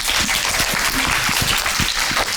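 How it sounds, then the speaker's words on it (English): Audience applause fills a symposium hall for the session moderator, a dense, steady burst of many hands clapping close by, lasting a couple of seconds without talk. "Please give him a big applause."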